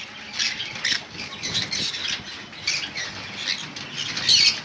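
A pair of pineapple conures squawk repeatedly in shrill, harsh bursts, close and loud, with a continuous chatter of calls and no talking.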